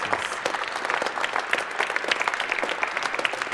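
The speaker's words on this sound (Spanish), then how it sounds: "lo recibimos con un caluroso aplauso" A Mass congregation gives sustained, even applause to welcome a guest, a dense steady patter of many hands at moderate loudness throughout, with no speech over it.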